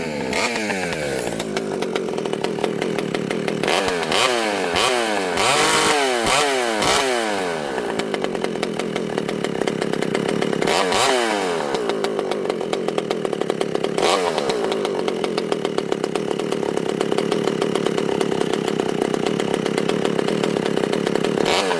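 A chainsaw engine runs loud and close, its steady buzzing drone broken by several revving surges that rise and fall, sustained throughout without talk.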